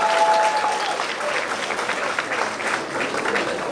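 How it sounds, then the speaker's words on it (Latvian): Dense, steady applause from a crowd in an indoor gathering honoring Linda, a second-place finisher, continuing evenly throughout with a brief voice at the start. "Tāda aplausa Lindai."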